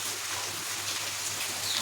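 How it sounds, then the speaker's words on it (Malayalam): Steady rain falls on a rainy day, a soft continuous hiss that stays even and moderately loud throughout with no voices. "അമ്മച്ചിയുടെ മടിയിലിരുന്ന മഴ കാണണം"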